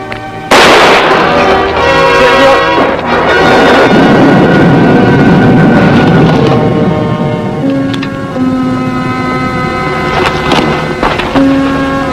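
A gunshot rings out in a western TV drama, one loud sharp blast with a long echoing tail, followed by tense background music with sustained tones and no talking over it.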